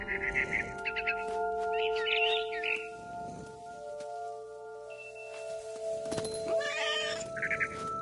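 A cat meows repeatedly in the game What Remains of Edith Finch, with short plaintive cries spread across the scene. They sound over a sustained musical drone, and a few faint bird chirps mix in.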